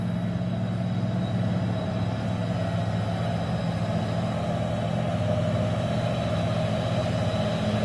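Heavy trucks labouring up a steep uphill road, a steady low diesel drone with deep engine rumble holding constant and fairly close throughout, with no voices.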